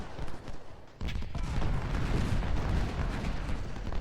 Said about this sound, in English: We need to fire one volley and then run.